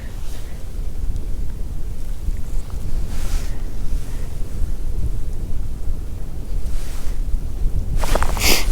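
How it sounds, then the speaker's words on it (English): Wind blowing across an open frozen lake during ice fishing for walleye, a steady loud rumble of gusts buffeting the microphone throughout, with a brief rustle near the end. "We got the wind right at my back, blowing right at me"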